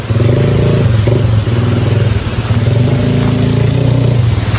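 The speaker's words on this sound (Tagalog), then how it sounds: "Maingay ang motor." A motorcycle engine runs loud and close with a steady throbbing idle and slight rev changes, continuous throughout with no talking.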